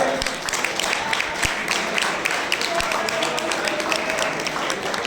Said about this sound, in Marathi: मित्र हो, जोरदार टाळ्या होऊन जाऊ द्या